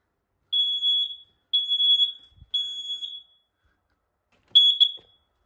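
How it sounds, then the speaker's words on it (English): A household smoke alarm being tested sounds loud, shrill beeps in three long bursts, then a short double chirp after a pause as hush mode activates, with silence between. "Smoke alarm in here works."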